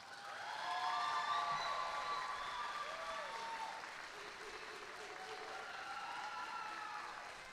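Audience at a high school graduation ceremony applauds the student speakers, a broad, steady wash of clapping from a large crowd lasting several seconds, while a voice talks over it.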